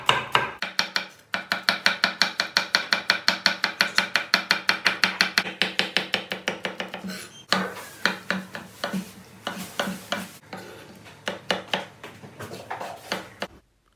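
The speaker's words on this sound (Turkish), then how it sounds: "Biberlerimizi de ufak doğrayacağız." A knife finely chops peppers on a board with rapid, evenly spaced strokes. After a brief pause, slower and more irregular chops follow, all close and clear with no talking.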